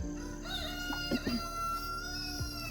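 A rooster crows nearby, a drawn-out, strained call with a few clucks breaking through, heard alone outdoors.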